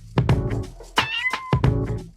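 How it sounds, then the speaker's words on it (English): A domestic cat meows several times up close, a pair of drawn-out, wavering calls followed by a brief higher cry and another pair, loud and clear with no talking. "But that's a domestic cat"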